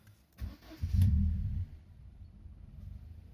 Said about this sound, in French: Le moteur émet un bruit absolument normal également.